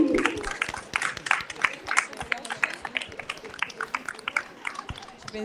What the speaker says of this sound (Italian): un applauso ai nostri coristi.